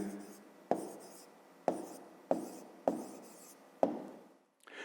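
Pen or chalk strokes write down a maths answer in a series of about five distinct taps and short scratches at an uneven rhythm, close and fairly quiet.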